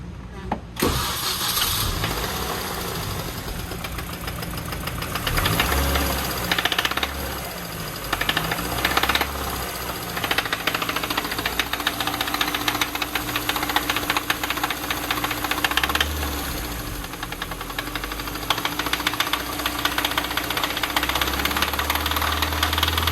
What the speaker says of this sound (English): listen to what it sounds like after 5 quarts of oil